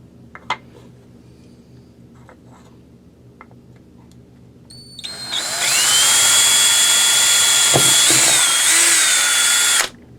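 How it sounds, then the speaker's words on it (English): A power drill whines loudly and steadily for several seconds, boring a hole through a hummingbird feeder during a repair, after a quiet stretch of faint handling clicks. "So the hole is drilled on each side."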